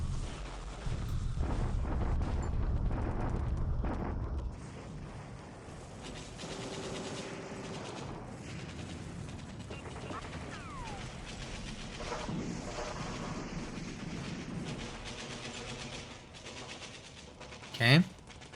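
Artillery bombardment in the video game War in the Pacific, heard as a dense rumbling barrage of distant explosions, heaviest at first and then fading into sporadic booms with a sharp blast near the end.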